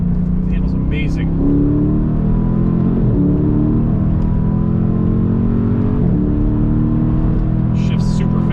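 A Dodge Charger SRT Scat Pack weighing about 4,400 pounds accelerates onto a freeway on a chilly day. Its engine gives a loud, steady, rising drone heard from inside the car, with someone talking over it.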